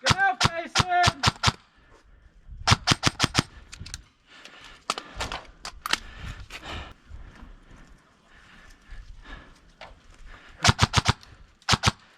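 Video game gunfire in rapid bursts of sharp shots, several volleys spread through the span with quieter gaps between them, and a brief whinny-like sound near the start.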